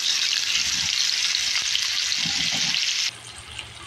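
Tilapia fish frying in a pan over a lowered flame gives a steady, close hiss of sizzling oil for about three seconds, then drops abruptly to a much quieter simmer, with no talk.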